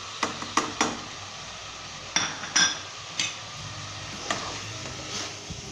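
A spoon stirs mutton in a pot with Kashmiri red chili powder, coriander powder, turmeric and salt over a medium-high flame. Sharp metallic clinks and knocks come in loose clusters over a soft, steady background, with no voices.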